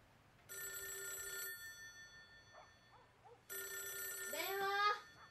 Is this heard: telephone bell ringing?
yes